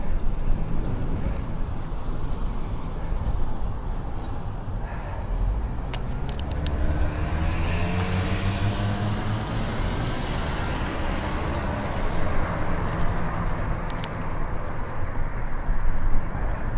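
Continuous road traffic surrounds a cyclist commuting out in the traffic lane, with a loud steady rumble of cars passing close by and a heavier vehicle swelling up and fading, and no voices.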